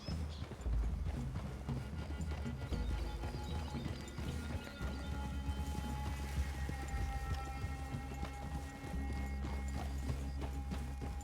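Steady clip-clop of horse hooves trotting along in Red Dead Redemption 2, with occasional snorts, continuous and moderately close, no talking.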